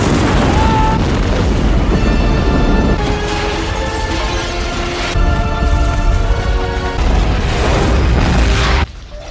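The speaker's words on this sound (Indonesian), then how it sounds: "salah satu hiu menarik Dr. Jim, membuat helikopter juga ikut tertarik dan meledak bersama menara Aquatica." A helicopter explodes together with the Aquatica tower in a shark film, a loud sustained roar of blast and crashing debris rumbling throughout before cutting off abruptly near the end.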